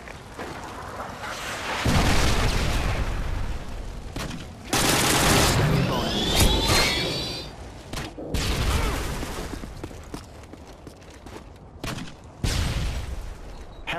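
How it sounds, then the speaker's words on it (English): Heavy gunfire and explosions from a Modern Warfare 2 match on the Scrapyard map, with a Predator missile strike among sustained bursts of automatic fire and loud blasts, broken by brief lulls. "Friendly Predator missile inbound."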